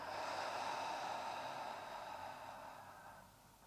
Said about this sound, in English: and breathing out completely.